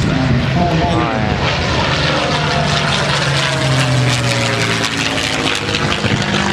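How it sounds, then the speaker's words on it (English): A Supermarine Spitfire with a Rolls-Royce Merlin engine flies past at an air display, its loud, close piston drone sliding down in pitch as it passes and fades. "We got the Song of Merlin, of course, with the Spitfire on his side."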